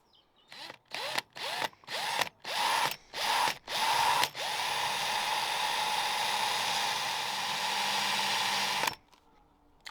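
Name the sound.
power drill drilling through door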